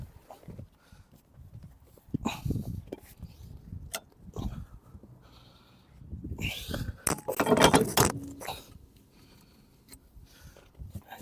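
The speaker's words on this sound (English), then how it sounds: "So we'll get the tow bar on the car first." Detachable tow bar being fitted to a car, with quiet scattered metallic clanks, knocks and rattles, a louder cluster of clinks and scraping midway, close and sparse against a faint background.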